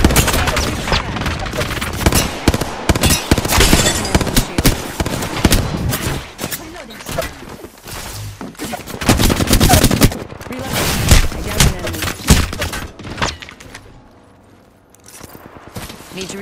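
Gunfire in the battle game Apex Legends comes as rapid, loud bursts of automatic shots in repeated volleys, with short lulls between them and a brief quieter stretch near the end.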